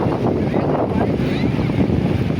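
Wind buffets the microphone over steady churning water as a boat moves out at sea, a loud continuous rush with no clear breaks.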